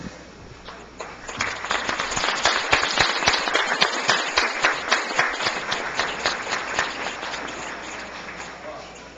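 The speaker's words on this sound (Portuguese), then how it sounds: "solicito aos nobres pares da público presente que em pé façamos uma salva de palmas" Council members and the public stand to applaud honorees during a session, with the clapping building up and settling into a rhythmic, synchronized beat that holds steady while faint voices murmur underneath.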